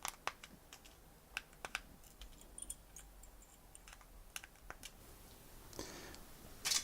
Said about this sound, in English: I'm going to take the dikes,